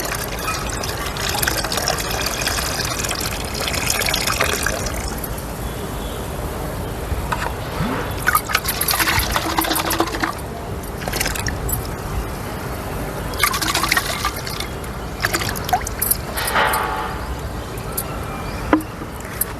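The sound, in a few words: pouring NPK culture and jaggery into a water drum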